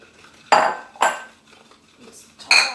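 A utensil clinks and scrapes against a bowl while flour is mixed into an eggless coconut jaggery cake batter, giving four distinct close knocks separated by quiet stretches.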